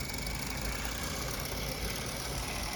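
A donated model train locomotive's small electric motor strains along an old Atlas layout with the throttle wide open, giving a steady, unbroken whirring drone with no pauses or voices.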